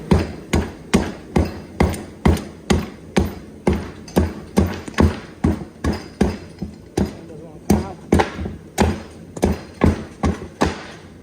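Repeated rubber mallet blows knocking bearings out of a Honda Rancher/Foreman/Rubicon ATV part on a desk, steady rhythmic thuds about twice a second, close and loud, with faint talk in between.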